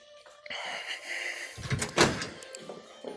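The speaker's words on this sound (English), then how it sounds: "I'm gonna go ahead and open both doors" Doors of a 1965 Ford Mustang Fastback open inside a dealer showroom, a soft latch click and creak building to a firmer thunk near the middle, with faint room noise around it.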